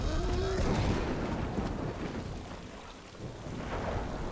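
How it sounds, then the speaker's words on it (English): A thunderstorm in a fantasy TV drama, with heavy rain hissing steadily on surfaces and deep thunder rumbling throughout, loud and dense, with no clear talk over it. "And now it's a hella bad storm."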